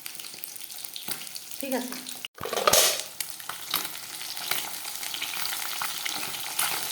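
A large catla fish fries in a pan with a bright, crackling sizzle, broken by a sharp metal clatter partway through and soft stirring scrapes. A voice briefly speaks.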